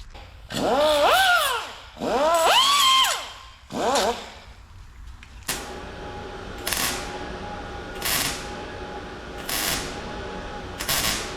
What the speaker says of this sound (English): So I'm gonna grind this edge off some right there.